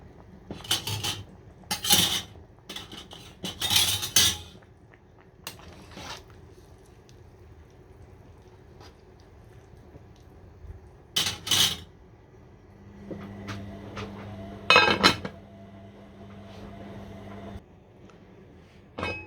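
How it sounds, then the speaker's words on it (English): Washed spring onions and pepper go into a soup pot of red peas in short bursts of rustling, clinking and soft knocks, separated by quiet stretches. "I'm gonna put them in the pot now"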